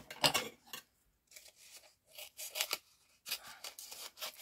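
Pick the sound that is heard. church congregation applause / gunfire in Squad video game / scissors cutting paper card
scissors cutting paper card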